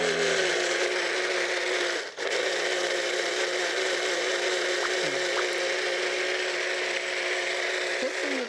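An electric blender purees apricots into juice for rice cake making, whirring with a steady loud hum throughout, with a brief dip partway through.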